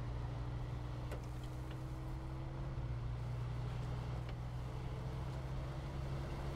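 A truck keeps rolling in the off-road driving game SnowRunner, its engine a steady low drone that runs alone and unbroken from start to finish with no talk over it.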